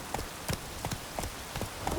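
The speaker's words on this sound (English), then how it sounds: "It's cold. It's raining." Steady rain falling in the video game The Witcher 3, a soft continuous hiss broken by regular knocking taps like hoofbeats, moderately loud with no voices.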